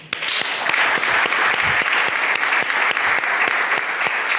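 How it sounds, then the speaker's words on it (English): An audience claps at the close of a forum on developing the market, with dense applause and sharp individual claps standing out at a steady level. "so a big applause"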